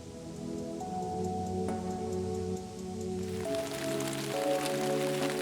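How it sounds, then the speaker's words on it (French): Rain falls on a Renault 4L during a night stage of the 4L Trophy car rally, pattering steadily over the constant drone of the running car, with no voices. "Il pleut sa mère."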